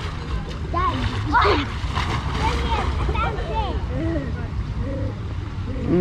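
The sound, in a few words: child swimming and splashing in water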